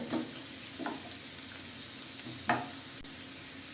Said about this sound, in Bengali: ভালোভাবে গাজরটাকে নাড়াচাড়া করে নিয়ে হালকা করে ভেজে নেব।